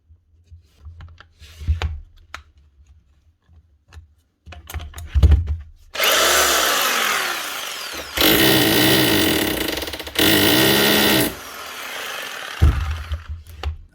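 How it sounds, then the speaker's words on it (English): A power tool motor starts and stops in short bursts, then runs loud and steady for several seconds, cuts out briefly and revs up again, ending with a few more short spurts. "Motor running."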